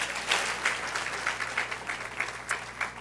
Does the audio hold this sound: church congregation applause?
yes